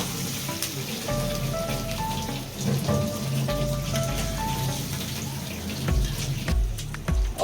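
Water is poured into a cooking pan while prawns, onion and garlic are frying, making a splashing, spattering rush with short bursts and hissing steam close by.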